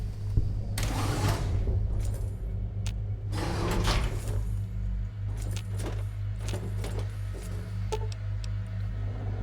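A sliding door opening in the Fallout video game, a mechanical whoosh and clatter with several sharp metallic ticks over a constant low hum.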